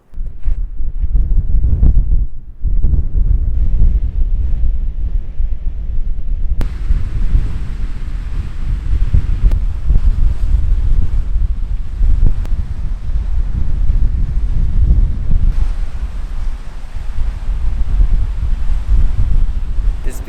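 Strong wind buffets the microphone on a beach crowded with windsurfers and kites, with surf rumbling underneath; loud, gusty and continuous throughout.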